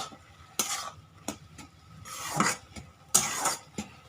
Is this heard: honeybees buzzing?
no